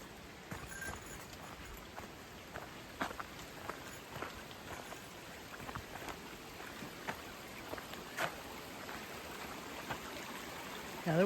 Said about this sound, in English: Another water crossing.